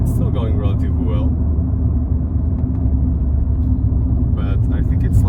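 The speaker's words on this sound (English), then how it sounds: "When you give it a bit more gas, it almost sounds like any other K-series." Rover 400 K-series engine running and revving, a loud continuous low rumble that holds steady throughout, heard from inside the car with someone talking over it.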